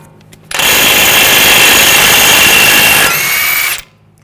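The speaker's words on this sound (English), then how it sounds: "This one's been replaced before, so we're going to use a" An impact-type power tool spins off a front axle bolt with a 27mm socket on a 2011-2018 Volkswagen Jetta, a loud, steady burst of about three seconds that drops briefly near the end before stopping, close and alone.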